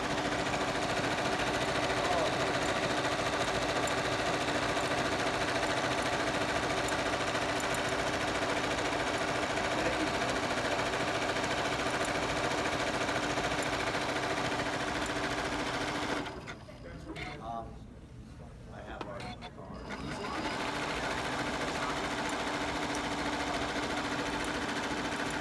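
A Janome Continental M7 sewing machine sews a satin stitch for appliqué, a fast, steady mechanical hum running loud and close, dropping briefly near the end before resuming, while a person talks over it.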